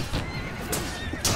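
A horse whinnies in Mount & Blade Warband battle combat, the neigh close and loud over a dense din of fighting, with sharp bursts near the start, middle and end.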